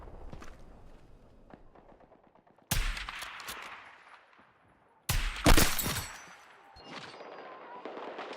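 Sniper rifle gunfire in a first-person shooter video game, two sharp cracks a few seconds apart with echoing tails, set among faint clicks and distant game sounds.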